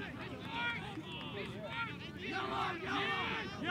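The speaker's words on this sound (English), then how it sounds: "the crowd reacts to the physical play of Jordan Cutter" Lacrosse crowd at a college game reacting to a big physical hit, a loud rising clamour of shouts and cheers with overlapping voices and yells rolling in waves.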